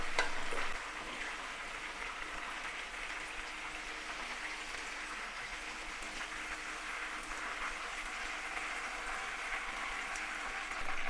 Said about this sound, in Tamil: இப்போ பேலன்ஸ் உள்ள சிக்கனையும் எல்லாத்தையும் ஃப்ரை பண்ணி எடுத்துக்கோம்.